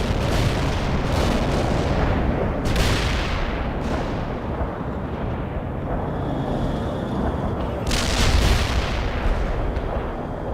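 Sustained artillery fire in the real-time strategy game World in Conflict, a constant rumbling barrage with repeated heavy booms, several sharper blasts standing out, no talk.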